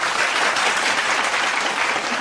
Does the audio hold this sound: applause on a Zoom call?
yes